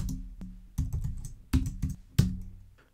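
Keys clack on a computer keyboard in short, uneven bursts of typing with brief pauses, close and clear while code is entered for an Excel VBA date routine.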